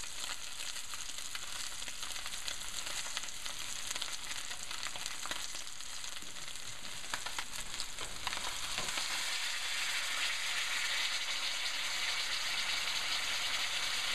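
A thick piece of wahoo (ono) sears in a hot pan, giving a steady, dense sizzle and crackle that runs the whole time, close and fairly loud, with brief stirring or shifting noises partway through and no talking.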